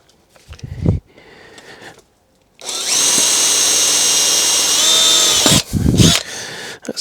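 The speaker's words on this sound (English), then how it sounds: "That's an unusually sharp drill for me." A power drill whines loudly for about three seconds drilling M6 holes in a BMW K75 motorcycle frame, bracketed by brief clunks and handling noises before and after.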